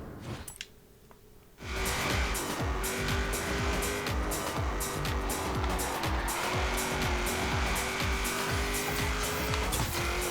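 Race car in the Forza Horizon video game, a loud revving engine with repeated gear-change pulses and tire noise, starting abruptly after a quiet opening and continuing steadily to the end.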